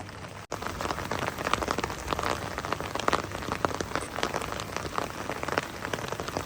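Heavy rain pours down on a campsite, a dense, steady patter of drops striking nearby surfaces without letup, loud and close with no voices.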